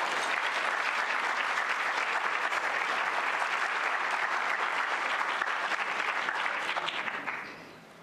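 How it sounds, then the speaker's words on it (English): A large conference audience applauds a speaker steadily, a dense wash of clapping that holds for several seconds before tapering off at the end. "Let's give her another round of applause."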